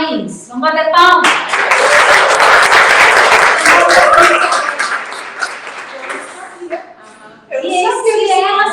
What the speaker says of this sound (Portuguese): Vamos bater palmas?